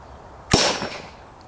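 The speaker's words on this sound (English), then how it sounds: "So I'm going to fire one shot." A single sharp shot from a dummy launcher used for dog training, a loud close crack that trails off into a short fading echo in otherwise quiet surroundings.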